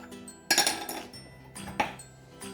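A knife is picked up in a kitchen and clinks against dishes, giving two sharp metallic chinks separated by quieter rattling, close by with no talk.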